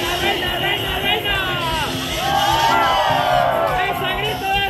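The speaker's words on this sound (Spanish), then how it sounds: "¡Esa grito de júbilo!" At a Guadalupe religious fiesta in Uxpanapa, Veracruz, a dense crowd whoops and shouts with joy. The sound is loud and close, with voices overlapping in a sustained, rising clamor.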